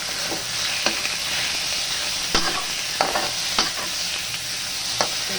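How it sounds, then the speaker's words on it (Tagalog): Pork meat sautés in a hot pan for mung bean stew, a steady loud sizzle broken by repeated sharp clinks and scrapes of a stirring utensil, close and with no speech. "sunod natin yung pork meat. Yung ating pork. Susutay lang natin siya"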